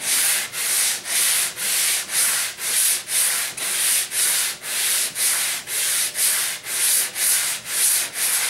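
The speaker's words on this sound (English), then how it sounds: "Now I can take my sanding block, and you notice I'm going on and off" A sanding block works over the binding of a guitar fingerboard being radiused, with steady rasping back-and-forth strokes, about two per second, close and loud with no talking.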